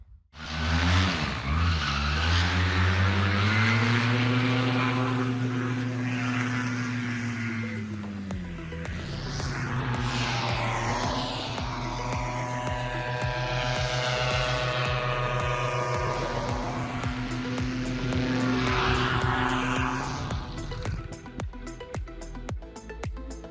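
Paramotor engine on a pilot's back, fitted with a fleXer 140 cm propeller, runs loud and close with a strong droning tone, revving up and down through several swells of throttle over about twenty seconds.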